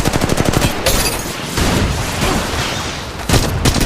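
Rapid gunfire from the mobile shooter Apex Legends Mobile, with dense automatic bursts, loud clustered shots and a short lull before firing resumes, all close and alone without talk.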